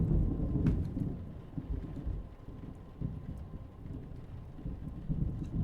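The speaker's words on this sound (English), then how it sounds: "All I can see is darkness, blurred by the rain on my window." Rain and thunder in The Seance of Blake Manor video game: a steady, full rain hiss with low rumbling thunder rolling underneath, continuous and fairly close, no voices.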